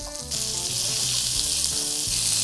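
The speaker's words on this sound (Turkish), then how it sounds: "Evvela soğanı kavuracağım." Onion sautéing in melted butter and a little oil, a loud, steady, hissing sizzle that swells abruptly after a brief quieter start and holds constant close up.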